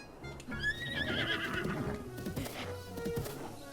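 A horse whinnies with a rising, wavering neigh in Breath of the Wild at the mounted archery camp minigame, followed by clip-clopping hooves and game ambience, loud and close with no talk.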